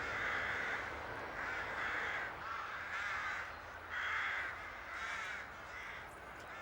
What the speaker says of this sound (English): Can you hear the rooks? I think they're building their nests at the moment.